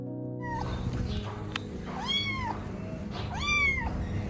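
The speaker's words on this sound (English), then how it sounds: "We saw a cat just get thrown into a bush." A cat meows twice at night aboard or beside a sailing boat lying at anchor, each call a rising-falling wail standing out over a steady low hum of engine or generator noise.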